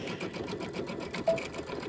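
A sewing machine stitches the outer border of a Kimberbell Cuties table topper, its needle chattering in a fast, steady rhythm close by with no talk.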